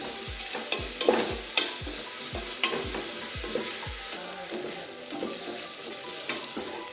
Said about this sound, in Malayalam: ഇനി നമ്മുടെ സവാള നന്നായിട്ടൊന്ന് വഴറ്റിയെടുക്കണം.